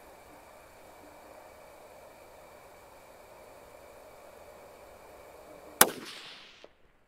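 A single sharp crack of a Tikka T3 Lite rifle in .223 Rem fires near the end of a quiet outdoor stretch, loud and close, followed by a short fading echo.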